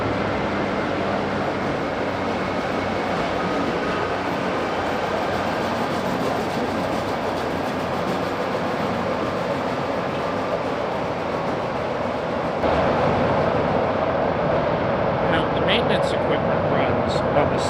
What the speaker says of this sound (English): I think we might have some maintenance equipment coming through.